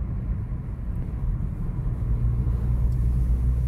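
A Ford Freestyle driving up a mountain road to Nathula Pass near the Indo-China border, a steady low engine and road rumble inside the cabin, constant and even throughout with no talking.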